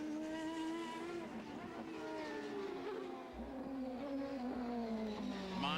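Juan Pablo Montoya's CART Indy race car screams through the final lap at the 1999 Molson Indy Vancouver street race, a loud, steady, high-revving engine whine with falling pitch as it slides through a corner.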